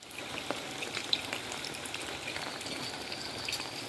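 Steady rainy-season rain in the Philippines patters continuously on surfaces, a soft even hiss with scattered drips and no voices.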